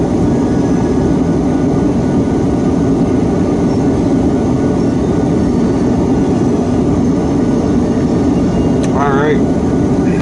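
A BNSF freight train locomotive approaches, a steady heavy low-pitched engine drone that fills the whole stretch, with a brief squeal near the end.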